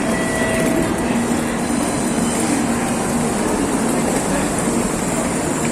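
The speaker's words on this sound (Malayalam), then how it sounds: "ഇപ്പം 2 ട്രെയിൻ അടുത്തടുത്ത് പോയി." Japanese Shinkansen bullet trains passing through a station between Tokyo and Kyoto, a loud continuous roaring rush of two trains close together, with a steady hum throughout.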